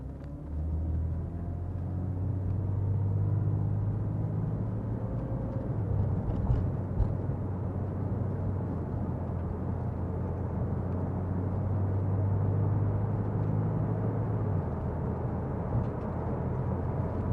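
A black 2006 Porsche 911 pulls away in normal drive with a low, steady engine rumble. The sound is fairly quiet and continuous, with no voices.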